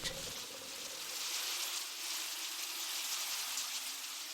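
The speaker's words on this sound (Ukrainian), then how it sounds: "І десь здаля дощ." Steady, soft rainfall with a continuous hiss, sounding even and gentle rather than heavy, with no thunder or other sounds.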